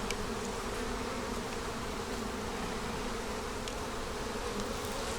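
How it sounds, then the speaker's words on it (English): Honey bees hum steadily and densely around an open queenless hive, a continuous close buzz with no pauses and no voices. "we're going to spray these bees down here."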